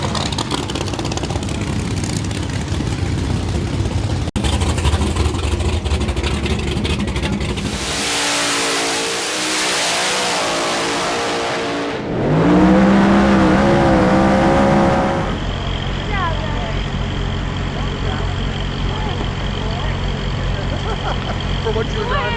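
Drag racing car launching down the strip at Summit Motorsports Park, a loud engine roar that swells into a hard, rising rev before fading to a steadier, distant drone, with people talking throughout.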